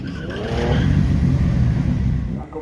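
Cars launch side by side in a drag race against a minivan, engines revving hard and accelerating loudly and steadily close by before easing off near the end, with faint voices in the background.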